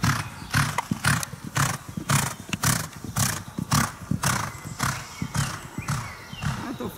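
A horse in training at a stable, its hooves thudding in a steady rhythmic beat, close and clear, with loud snorting breaths between strides.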